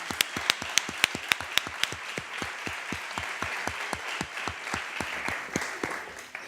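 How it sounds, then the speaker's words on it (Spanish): A small audience at a design event applauds a creative director as he is introduced, a sparse round of distinct, rhythmic claps from a few nearby hands with a softer crowd wash beneath. "un fuerte aplauso a él"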